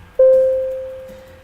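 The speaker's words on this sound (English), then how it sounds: "The signal alert system sounds like this." A train signal alert from a video game, a single clear electronic tone that chimes once and rings out steadily, slowly fading over about a second against quiet background noise.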